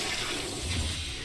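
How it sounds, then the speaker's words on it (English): A toilet flushes up close, a steady rushing, gurgling wash of water that fills the whole moment without letup. "Like, I know what a toilet flush is."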